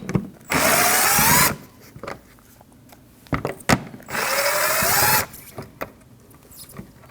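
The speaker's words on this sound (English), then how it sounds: "To remove your fog lamp, you need to remove these two 7mm bolts." A power tool runs in two loud, sustained bursts of about a second each as it drives out the two 7mm bolts holding a 2013-2016 Ford Escape fog lamp, with clanks and handling clicks in between.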